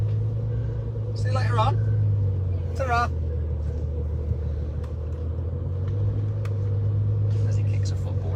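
A 2008 Bentley Continental GT Speed V12 rumbles steadily at idle, a deep continuous burble running throughout while people exchange brief goodbyes over it.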